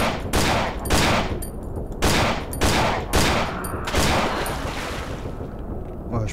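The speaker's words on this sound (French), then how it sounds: "je vais utiliser la mitraillette" Submachine gun fire in the PC horror game Cry of Fear, loud close bursts repeating about once a second, each a dense rattling volley with echoing decay, with no voices.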